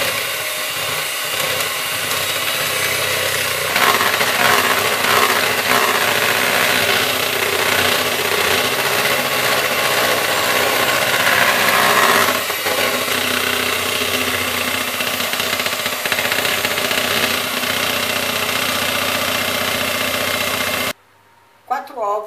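An electric mixer beats eggs and sugar for a dairy-free, gluten-free chocolate cake, giving a loud, steady motor whir that runs unbroken for about twenty seconds before cutting off abruptly near the end.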